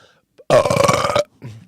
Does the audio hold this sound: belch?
yes